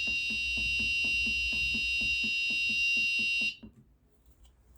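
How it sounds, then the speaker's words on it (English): A home security alarm buzzer sounds a steady, loud, high electronic tone with a rapid repeating beat underneath for about three and a half seconds, then cuts off abruptly to near silence. "I want you to see that the buzzer is producing sound."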